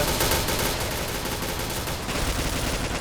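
Dense, continuous gunfire in the online shooter Point Blank fills the whole stretch, loud and close with rapid overlapping blasts and no pause.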